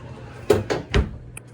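A drawer in a hotel room under the TV, heard as two or three quick wooden slides and thumps, close and moderately loud, with a faint click near the end.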